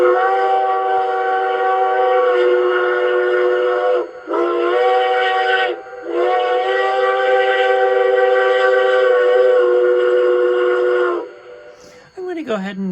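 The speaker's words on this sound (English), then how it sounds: "F4 is the highway crossing whistle in this case." Highway crossing whistle from a Zimo sound decoder fitted in an LGB 2019S mogul locomotive: loud, chime-like steam whistle blasts in a long-short-long pattern, the last held long before a brief falling tail.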